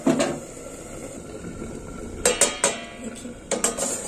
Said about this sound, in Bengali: এবার একটু ঢাকনা দিয়ে দেবো